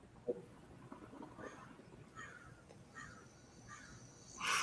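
Several caws from a crow, somewhat distant and moderately faint, come in a loose series over quiet background noise, with a louder burst at the very end.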